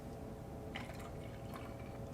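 Water is poured into a sanitized can to rinse it out while making a yeast starter, giving a soft, steady liquid splashing and dripping that is faint and continuous, with no voices over it.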